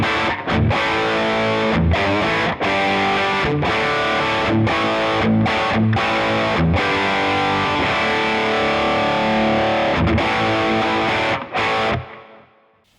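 A Gibson electric guitar played through heavy distortion strums a series of loud, choppy chords with brief stops between them, ringing out alone before the final chord fades away.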